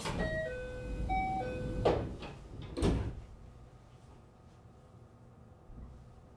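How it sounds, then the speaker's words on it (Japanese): Sliding doors of a JR West Class 521 electric train (KuMoHa 521-34) on the Hokuriku Main Line close after a departure chime, a near mechanical thud and rumble, then the quieter hum of the waiting train. "閉まるドアにご注意ください"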